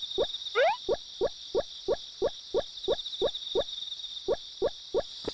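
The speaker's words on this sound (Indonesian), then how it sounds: "Wih, suara jangkrik nih bos." Chirping crickets in the farming video game Harvest Moon Back To Nature: a steady high insect trill runs throughout under a regular series of short, evenly spaced game ticks, with one brief rising chirp near the start.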